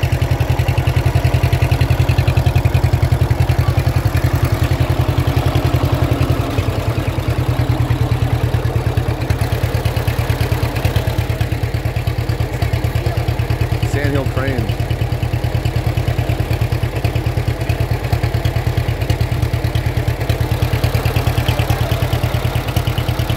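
John Deere two-cylinder tractor engine running steadily after starting, a loud close low throbbing idle with clattery mechanical noise, continuous throughout.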